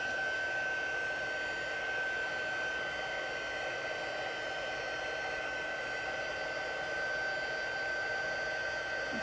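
A heat tool blows a steady, unbroken stream of hot air over embossing powder on a stamped craft piece, a constant whirring hiss with a thin whine running through it, close and alone with no talk.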